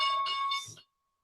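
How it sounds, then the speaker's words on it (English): A single short ring of a stock market opening bell, a bright sustained tone that cuts off cleanly after under a second, fairly faint. "And there's the bell, and we are in."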